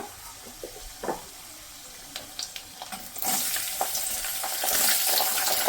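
After a few quiet clicks and clatters, sliced onions hit a hot pan with fried chana dal and burst into a loud, sustained sizzle that swells and holds to the end.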